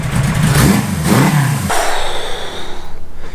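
A rebuilt Suzuki GS850 scrambler motorcycle engine runs close by, revving up and dropping twice in loud surges before settling to a steadier, rougher idle-like drone.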